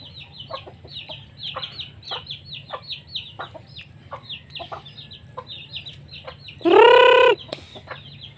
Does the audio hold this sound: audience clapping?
no